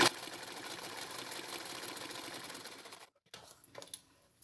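A sewing machine stitches steadily along the edge of a piece of fabric for about three seconds, then stops abruptly, leaving a few faint clicks and handling sounds.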